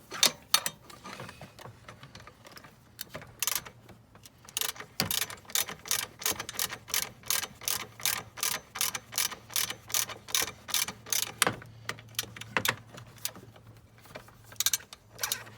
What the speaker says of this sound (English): I'm going to go ahead and lock the top screw for the alternator in